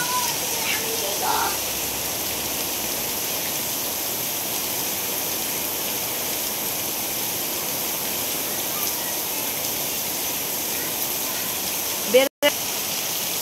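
A heavy downpour of rain roars evenly and loudly throughout, with a brief voice near the start and a short break in the sound near the end.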